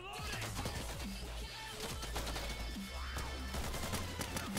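Gunfire in the video game Insurgency, dense bursts of rapid shots and heavy reports rolling through the whole stretch, loud and close, with a few scattered voices underneath.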